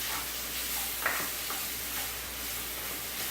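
Onions and green beans sauté in a hot pan with a soft, steady sizzle and faint stirring scrapes, close and continuous, no voices.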